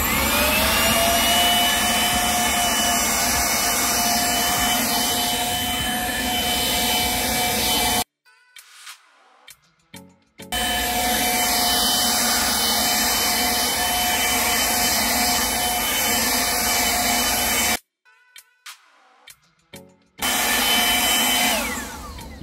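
A cordless 54V ES LB454 leaf blower roars loudly, blowing small scattered leaves in two long continuous runs, with a brief stop between them and a restart near the end.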